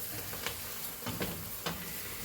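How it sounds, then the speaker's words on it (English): Food fries in a pan with a quiet, continuous sizzle, broken by a few soft stirring scrapes. "It's starting to fry now."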